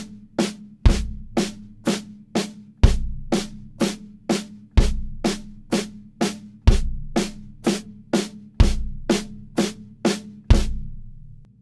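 Drum kit groove with eighth notes played by the hands over a repeating bass-drum foot pattern, a steady, evenly spaced stream of sharp hits with heavier kick accents, played alone and close.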